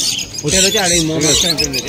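A hand-tame exotic pet bird at a bird market in Kolkata squawks loudly and harshly up close in a few repeated raspy calls, with a person speaking nearby.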